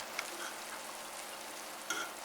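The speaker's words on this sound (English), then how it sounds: "let's just give it a moment and then it'll start frying." Collard greens frying in a hot pan give off a steady, soft crackling sizzle that runs throughout, with a couple of brief louder spits near the start and end, close up and with no voices.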